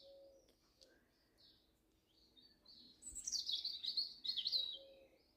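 Several birds chirp nearby, building into a busy, bright trill, while a dove coos low at the start and end.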